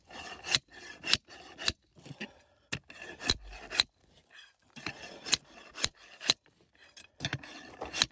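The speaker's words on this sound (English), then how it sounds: "let me bust up some of this bedrock here" A close, repeated scraping slide of a slide hammer breaking up bedrock while gold prospecting, each stroke ending in a sharp metallic clank, about a dozen times in a steady working rhythm.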